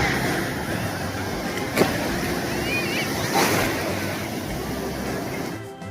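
Ocean waves at Manginapudi beach produce a steady wash of surf with wind, and voices of people talking rise over the rolling water.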